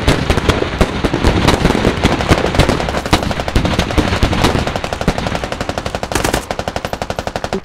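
Machine gun fire in the military shooter game Squad on the Narva map, loud rapid bursts of automatic gunfire close by with sharp repeated cracks, ending in a long steady burst, no talk.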